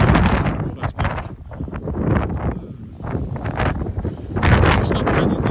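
Gusty wind buffets a microphone on a cold March day while walking downtown in Regina, loud rumbling blasts that rise and fall, with brief bits of rustle in the gusts.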